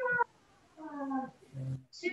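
A voice imitating a cat's meow, a short, quiet drawn-out vocal miaow during an indoor young children's class, with other brief voice sounds around it.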